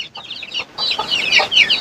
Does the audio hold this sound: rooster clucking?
yes